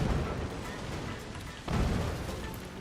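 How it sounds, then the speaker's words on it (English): Mortar fire in the Forts RTS video game, a dense continuous rumble of distant booming barrages with a heavier thump surge partway through, loud and without speech. "That is far too many mortars for any one base to handle"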